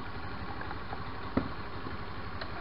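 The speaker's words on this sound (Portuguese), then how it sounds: "ver se o motor tá com barulhinho uniforme, sem estar acelerado" A carburetted Suzuki Burgman 125 scooter engine idles without throttle, giving a steady, even drone that stays constant and close throughout, with one small bump midway.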